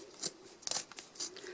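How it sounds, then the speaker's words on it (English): Scissors snip around a fabric zipper bag made in the hoop, cutting close to the stitching and zipper; a few crisp, crunchy cuts come in quick succession, close and clear with no talk. "Don't use your best scissors for this because that zipper is really going to dull them."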